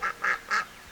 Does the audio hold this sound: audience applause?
no